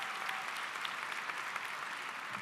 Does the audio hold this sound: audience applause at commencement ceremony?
yes